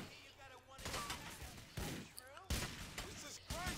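Pistol fire in the game GTA IV: The Ballad of Gay Tony, with several sharp gunshot bursts spread across the span, loud and abrupt against a background of game sounds and someone talking between shots.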